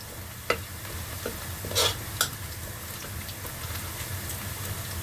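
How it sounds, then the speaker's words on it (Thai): Vegetables stir-fried in a wok, a steady sizzle under a few sharp scrapes and clanks of the spatula, with no talking. "ใส่ผักลงไป ผัดเลย"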